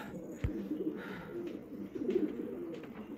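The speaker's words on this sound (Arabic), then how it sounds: "هاي الحمام" Pigeons cooing outdoors in a loose, continuous murmur of low throaty calls with one sharp louder knock partway through, no speech.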